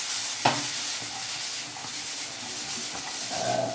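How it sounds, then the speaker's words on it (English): Chopped onions and green chilies fry in a pan with a steady, fairly loud sizzle and hiss, broken by a few light scraping stirs. "we will cook until onion becomes translucent."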